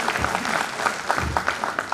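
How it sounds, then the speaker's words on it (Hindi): An audience at a health lifestyle session by a cardiologist in Kota breaks into brief applause, a dense patter of claps that rises and falls for a couple of seconds. "बस ताली बजा दो इस आदमी के लिए जिसने मेरा काम किया।"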